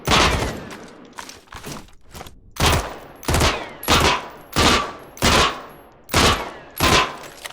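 Full-auto rifle fire from an M4 or M16A1 in the video game Badlanders: loud, close bursts of automatic gunfire. Several short sustained volleys repeat in a steady rhythm with brief gaps between them.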